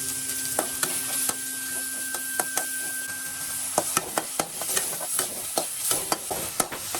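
Onions and tomatoes sautéed with salt and turmeric for a Kalyana sambar: a soft, continuous sizzle under repeated scraping and tapping stirs of a spoon against the pan, fairly quiet and steady.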